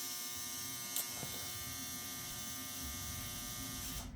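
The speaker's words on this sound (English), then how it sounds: "That was my washer, sorry." A household washing machine runs nearby with a steady, even mechanical hum and faint whine that holds for several seconds, with one brief knock early on and no voices.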